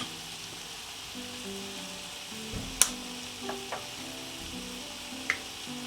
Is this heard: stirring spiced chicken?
yes